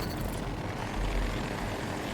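MD540 Nightbird helicopter in Battlefield 2042, a steady loud rotor and engine drone filling the whole clip, with a low thump swelling near the middle and no talk.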